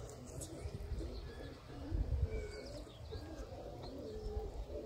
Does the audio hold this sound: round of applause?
no